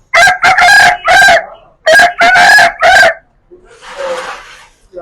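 A voice imitates a rooster crowing, several loud, rhythmic cock-a-doodle-doo calls close to the mic during a kids' animal-sound talent show, with a softer trailing call at the end.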